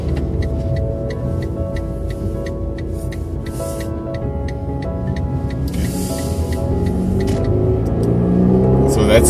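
A 2018 Fiat Panda engine with a free-flow exhaust runs with a raspy, buzzing note that grows louder toward the end, with rapid ticking and people talking over it.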